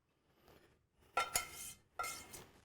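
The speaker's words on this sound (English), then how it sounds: "All I want to do is put some butter in the spider." Butter goes into a cast-iron frying pan, heard as a few soft scrapes and two sharp metallic clinks of utensil on iron in a quiet kitchen.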